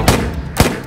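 Two sharp, loud bangs about half a second apart, each a brief burst with a booming low end.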